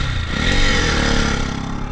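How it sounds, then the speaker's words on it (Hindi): Hero Xtreme 200S motorcycle engine running steadily up close, a continuous loud mid-pitched drone with mechanical clatter and slight revving, no speech. "तो मैं चलाने वाला हूँ हीरो स्ट्रीम 200S।"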